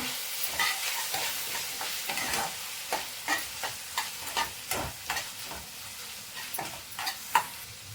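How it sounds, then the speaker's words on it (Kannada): Chopped onions with turmeric powder fry and sizzle in a pan while a spatula stirs them in repeated scraping strokes, a steady close hiss with no talking. "ಈ ಟೈಮಲ್ಲಿ ಸ್ವಲ್ಪ ಅರಿಶಿನ ಪುಡಿ ಸೇರಿಸ್ಕೊಳ್ಳೋಣ. ಈಗ ಚೆನ್ನಾಗಿ ಮಿಕ್ಸ್ ಮಾಡ್ಕೊಳ್ಳೋಣ."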